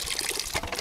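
Water pours out in a short, close splashing gush that lasts under a second, with no talk.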